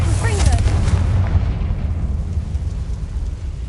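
Bombarda and Confringo blasting spells striking a barricade in the Hogwarts Legacy video game: a loud, heavy boom with a deep rumbling roar that slowly fades over several seconds, and a voice briefly at the start.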